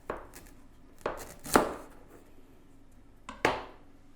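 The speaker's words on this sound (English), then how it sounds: "I do about 2-inch piece of ginger, but it's completely up to you for taste, so cut off as much as you like" A knife chops through a 2-inch piece of fresh ginger on a board: four sharp, separate cuts spaced irregularly over a few seconds, close and fairly quiet, with silence between strikes.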